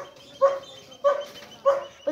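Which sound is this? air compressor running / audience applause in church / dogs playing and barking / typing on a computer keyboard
dogs playing and barking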